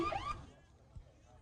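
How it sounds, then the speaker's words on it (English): At a high school baseball game, a short burst of warbling, sweeping car-alarm tones sounds briefly and then cuts off, leaving quiet background noise. "car alarm noise"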